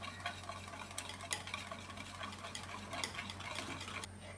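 Onion, green chili and curry leaves being stirred together in a pan for an egg omelette, giving a soft, steady scraping and stirring with faint sizzling and a few sharper ticks of the spoon against the pan.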